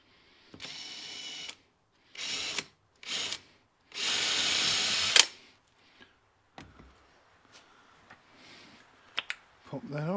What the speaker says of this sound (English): using a bit of rule plug or wall plug on the drill to keep the depth correct